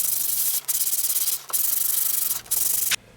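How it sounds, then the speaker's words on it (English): Steady, loud sanding of wood, a continuous rough rasp broken by three short pauses between strokes, stopping abruptly near the end. "So what I'm going to do is actually sand this down so it's nice and square"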